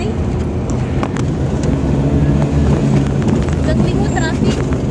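Heavy road traffic rumbles steadily across Buntun Bridge, a dense low drone of engines and tyres with scattered passing vehicles and wind buffeting, loud and continuous throughout.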